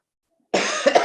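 A short burst of coughing after silence, one harsh cough followed by two quick smaller ones, close and clear.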